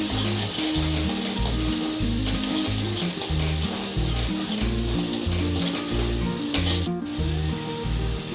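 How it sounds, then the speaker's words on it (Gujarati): Kadhi masala cooks in a hot pan with a loud, continuous sizzle and spatter, close up, with a brief clatter near the end and no speech. "હવે આપણો કઢીનો મસાલો સરસ રીતે પાકી ગયો છે."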